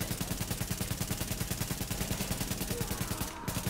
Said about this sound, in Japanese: 今ちょっと銃声聞こえなかった。